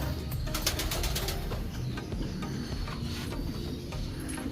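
A pigeon coos low and soft against a steady background hiss, with no talking.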